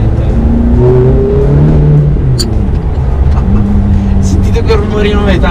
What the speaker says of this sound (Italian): Sentite quel rumorino metallico tra una cambiata e l'altra, non ha prezzo.